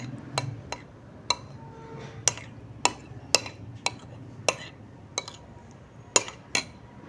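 A spoon stirs yogurt with cumin and spices into raita in a bowl, clinking sharply against the sides about a dozen times in a loose, fairly regular rhythm, close and clear.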